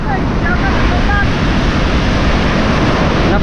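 Large storm waves surge and crash around a small boat in a typhoon, a loud unbroken roar of water and wind buffeting the microphone throughout.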